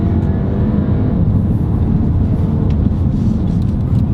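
A 2019 SEAT Ateca FR with a 2.0-litre TSI engine, seven-speed DSG gearbox and four-wheel drive, heard steadily from inside while driving as a constant low engine and road drone with no talk.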